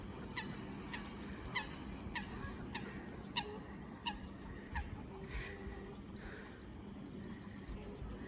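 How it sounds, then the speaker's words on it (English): Hens cluck outdoors in a natural wooded setting, a series of short faint calls at a loose rhythm over low steady background rumble. "Some more hens here."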